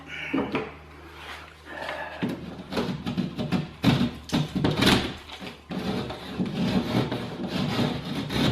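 A piece of timber being trimmed by hand, with continuous rough sawing or rasping strokes in an uneven rhythm, close and fairly loud, with a few knocks early on and no talking.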